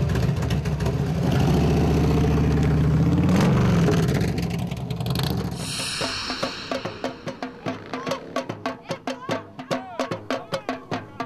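Motorcycle engines rev and roar at the European Bike Week 2005 rally, loud and close at first, then giving way to a steady train of sharp rhythmic beats from samba drumming.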